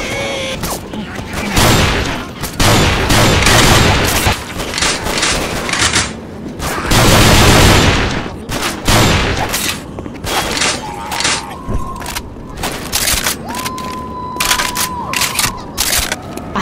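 Rapid gunfire mixes with thumps, booms and mechanical clatter as survivors shoot zombies in the video game Left 4 Dead 2, on a custom campaign set in Barcelona. The sound stays loud and dense throughout, with people talking over it.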